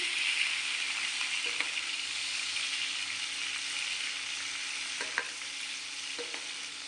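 Onions frying in hot oil after ridge gourd (tori), giving a steady, even sizzle with faint occasional ticks and stirs, close and fairly quiet, with no speech.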